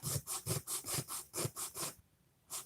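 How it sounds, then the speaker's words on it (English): Sandpaper rubs back and forth over the wood of a bathroom cabinet, about nine rhythmic rasping strokes, close and even, with a short pause before a final stroke. "you just kind of sand back and forth right to that point"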